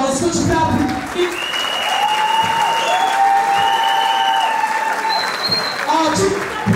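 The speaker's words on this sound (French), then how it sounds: "Est-ce que tu peux applaudir?" A crowd at a Gabonese civil wedding applauds in a dense, sustained wash of clapping with some whistles and cheers rising through it, loud and continuous.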